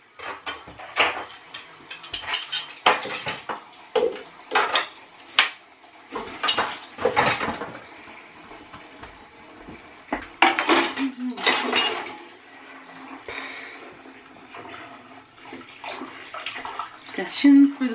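Dishes and cutlery washed up in a kitchen sink: running water, clinking plates and rattling silverware in irregular bursts, close by, with voices talking now and then.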